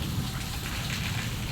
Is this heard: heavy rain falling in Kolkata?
yes